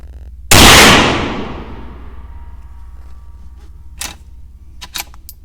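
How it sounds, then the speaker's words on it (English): A single loud gunshot from a Savage B22 precision rifle at an outdoor range, 50 yards to the target, with a long fading ring after it and a few faint clicks later. "Everybody wanted to see it shoot, so that's what I'm doing."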